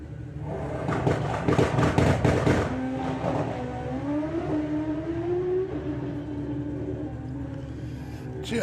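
Hayabusa drag racing motorcycle on a run at Santa Pod Raceway, a loud burst of engine roar and crackle in the first seconds, then a rising tonal drone as it pulls away and fades into the distance.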